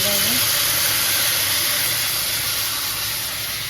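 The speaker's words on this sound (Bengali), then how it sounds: "এবার মধ্যে তেঁতুলের জলটা দিয়ে" Loud, continuous hissing sizzle as tamarind water hits a hot pan for a Gujarati dish, steady throughout and gradually easing slightly toward the end.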